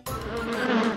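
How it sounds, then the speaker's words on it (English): A mosquito buzzes continuously and steadily, close and fairly loud, alone for about a second. "Mosquito."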